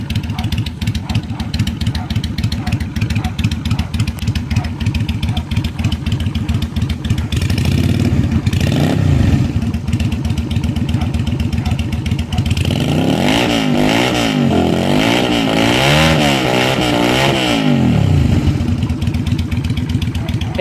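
A Yamaha Virago XV250 motorcycle engine, built up as a bobber, revs outdoors at night with throttle blips that rise and fall, ending in a loud sustained rev over a steady running rumble.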